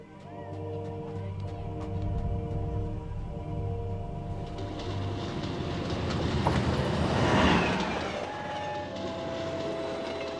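In an animated series, a Magno train rumbles steadily along the rails, a loud continuous roar with metallic squeals and clatter swelling as it passes close by.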